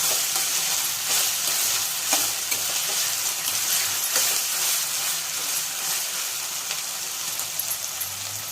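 Ivy gourd fry with gram flour hisses and sizzles steadily in a pan as a spoon stirs it, with occasional scraping clicks against the metal across the whole stretch and no talking.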